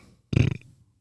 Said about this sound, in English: you can't just burp on my mic, man